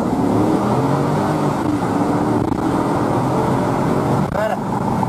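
Car engine revving hard as the driver accelerates down a street at night, a steady loud roar sustained throughout with a voice speaking over it.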